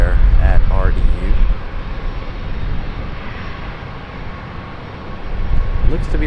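A passenger jet lands on the far runway at Charlotte Douglas International Airport, its engine roar steady and distant, rising and falling slightly over several seconds.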